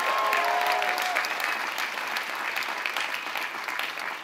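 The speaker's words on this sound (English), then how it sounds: "let's give them a round of applause" Crowd at an AIDS Walk New York kickoff event breaks into sustained applause, a dense wash of clapping that stays steady and fairly loud, with a brief tonal sound early on.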